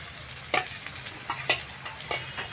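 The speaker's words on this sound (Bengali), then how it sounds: "মশলাটাকে ভালো করে কষিয়ে নেবো আমি।" Spice paste of ginger-garlic, cumin and pepper with tomato being fried in a pan, a steady soft sizzle broken by three sharp stirring scrapes spaced about a second apart, close by with no voices.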